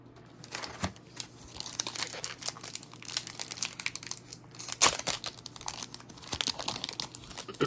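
Disney Lorcana Winterspell booster pack wrappers being torn open and crinkled, a steady run of close, dry foil crackling and rustling with a few sharper rips, no talking.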